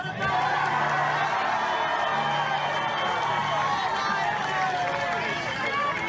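A large crowd roars and cheers continuously, a dense wash of many voices that stays loud and steady throughout, with shouting mixed into the din.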